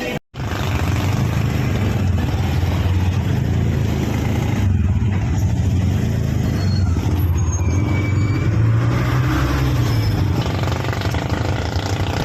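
A motorized tricycle engine runs close and loud with a steady rumbling drone for about twelve seconds, its pitch shifting slightly as it moves through traffic noise.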